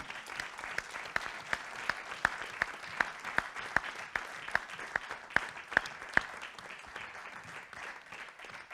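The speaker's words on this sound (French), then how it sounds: "Je souhaite les remercier et qu'on les applaudisse." An audience at a nature-association closing session applauds staff and volunteers with sustained, even clapping, with a few sharp individual claps standing out over the steady patter, tapering slightly at the end.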